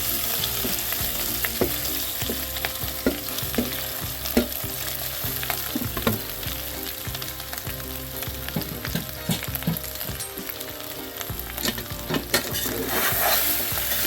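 Thick mashed boiled potatoes are stirred and scraped around a hot sizzling pan, with rapid irregular clicks of the spoon against metal throughout, no voices.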